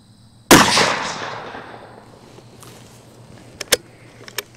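A single loud Tikka .222 rifle shot fired while sighting in at a target on a hillside, sharp crack followed by a long rolling echo that fades over a few seconds, with a few faint clicks afterward.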